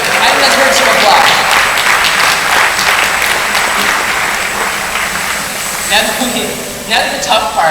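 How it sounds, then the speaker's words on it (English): Audience applause, loud dense clapping that swells then gradually thins out, with a voice speaking over the tail end as it fades. "I think that's worth some applause."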